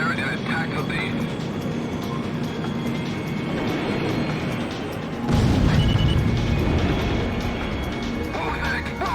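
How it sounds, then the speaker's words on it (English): An explosion in the jet combat game Ace Combat X: a deep, rumbling blast swells up about halfway through, over a steady, loud jet-engine roar that runs the whole time. "What was that explosion just now?"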